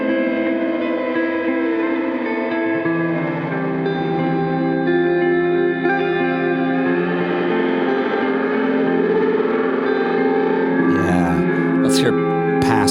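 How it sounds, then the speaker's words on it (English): A sustained synth or instrument tone washed in reverb and delay, with four delay lines giving a fixed flanging, comb-like shimmer through the reverb tail; dense, continuous and loud, with a brief noisy burst near the end. "there is now reverb and delay, and these four delay lines are creating kind of a fixed flange effect in the reverb."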